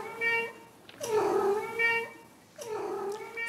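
A cat behind a door meows two drawn-out, plaintive times, moderately loud and clear, with a short gap between calls and no talking.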